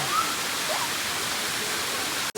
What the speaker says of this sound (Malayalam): നമ്മൾ വാട്ടർഫാൾസ് കണ്ടു